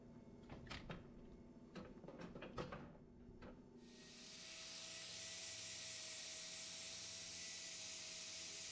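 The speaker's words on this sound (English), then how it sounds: "A thorough spray down, salicylic acid wrap" Some clattering and knocking, then a loud, steady hiss of a salicylic acid spray on an abscess trim starts and keeps going without a break to the end.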